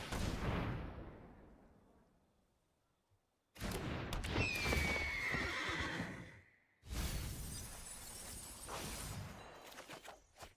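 A loud horse whinny in MTG Arena, for the Ostrich Horse card, rises and falls, set among harsh noisy bursts with a short silent gap before the clamor resumes.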